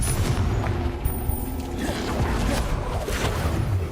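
A Confringo blasting spell bursts in Hogwarts Legacy, a dense rumbling boom inside a loud, continuous wash of combat noise with no clear gap.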